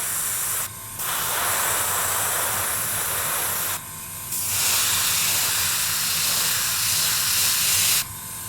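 Airbrush spraying thinned paint, about 70% thinner at roughly 17–18 PSI, onto a Tamiya Panther Type G scale model: a steady close hiss in long bursts with two brief pauses, no talking.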